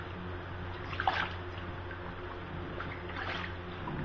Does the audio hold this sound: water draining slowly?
yes